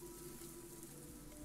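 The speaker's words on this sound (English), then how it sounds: "It's rain?" Rain in the horror maze game Labyrinthine, heard as a faint, steady hiss of drops pattering on a surface, alone and without any talking.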